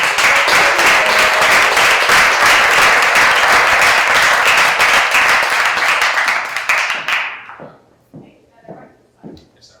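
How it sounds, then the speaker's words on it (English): An audience at a storytelling showcase gives a storyteller a dense, loud round of applause that holds steady, then thins into a few scattered claps near the end. "please give another welcoming clap to Gabby"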